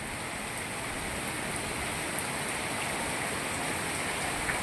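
Heavy monsoon rain pours down steadily at Moti Gop in Gujarat, a dense, unbroken hiss of water with no pauses.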